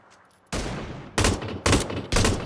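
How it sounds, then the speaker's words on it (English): Gunfire in the PUBG battle royale game: four loud, close bursts of shots, each roughly half a second long, arriving in quick succession over a constant background hiss, with no voices. "You hear them shots behind us?"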